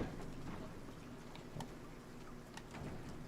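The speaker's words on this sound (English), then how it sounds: "It's raining out here now." Steady rain falls in the Silent Hill 2 Remake game, a dense hissing patter with faint scattered drops and a low rumbling undertone, no voices.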